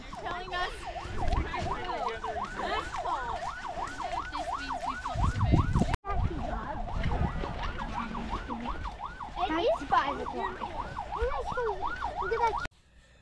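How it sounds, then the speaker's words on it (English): A wailing police-style siren rising and falling steadily, fairly close, with traffic rumble and bits of talk underneath. "Turns the lights and sirens on and all."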